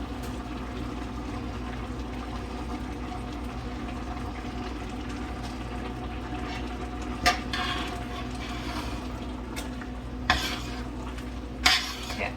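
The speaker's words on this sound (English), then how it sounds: "we're going to bring it back to a rolling boil that I cannot stir down for at least 1 minute" Carrot cake jam thickened with pectin bubbles at a rolling boil in a pot, a steady low seething hiss throughout, with a few sharp clinks of a spoon stirring against the pan near the end.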